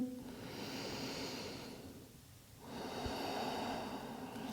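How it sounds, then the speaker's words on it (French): A slow, deep breath: a long audible inhale, a short pause, then a steady exhale, close and calm. "Prenez une dernière respiration, calme et profonde."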